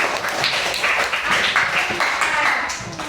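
A classroom group of students claps for their classmates, a dense steady patter of many hands sustained throughout at close range, with some talk mixed in.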